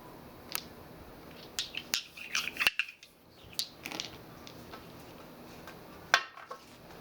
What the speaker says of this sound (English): These cards are a little harder to shuffle.